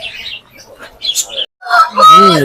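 A rooster crows close by, loud and hoarse, after some scattered clucking and rustling; the crow rises and trails off at the end.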